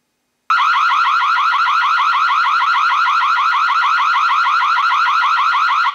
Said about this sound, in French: l'alarme sonore que vous avez entendue